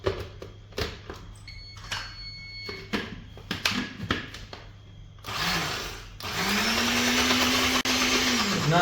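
An electric mixer beats sugar and eggs for a cake batter, a steady loud whirring drone that starts partway through after clattering kitchen handling sounds.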